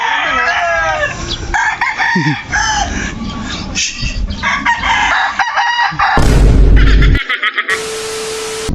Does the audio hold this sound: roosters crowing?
yes